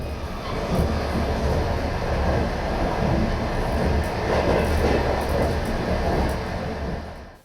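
Passenger train running at about 120 km/h in Belarus between Brest, Minsk and Moscow, a steady loud rumble and rattle from inside the carriage, continuous with faint clicks and no talk.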